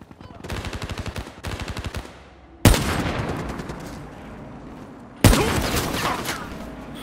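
Bursts of rapid automatic gunfire from a video game firefight crackle in quick rattling volleys, followed by two sharp, loud blasts that ring out and slowly fade.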